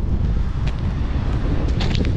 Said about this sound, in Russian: ветерок такой здесь на берегу достаточно ощутимый